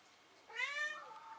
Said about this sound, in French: Oh, mon chat.